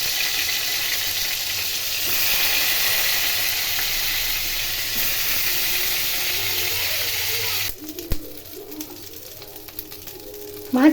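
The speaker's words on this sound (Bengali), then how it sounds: "মাছ ভাজা হয়ে গেছে" Fish frying in hot oil for a Bengali-style fish curry gives a steady, loud sizzling hiss for about eight seconds, then cuts out, leaving quieter kitchen clinks and scrapes.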